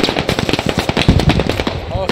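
Gunfire crackles in the Squad video game, with rapid, close bursts of automatic shots as a voice speaks over them.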